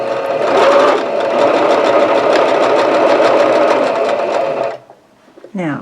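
A home sewing machine runs steadily stitching jelly roll quilt strips, a loud close whirring hum for nearly five seconds before stopping, followed by a brief rustle of fabric.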